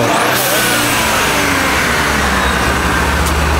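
Engine of a lifted GMC truck on 26x14 wheels, fitted with a bigger turbo and blow-off valve, roaring loudly and steadily at high revs close by, with a rising whistle near the start and no talking.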